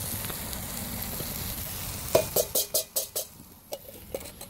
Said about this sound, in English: So this is 1 can 14 and a half ounces of diced tomatoes. I'm gonna add it with the juices.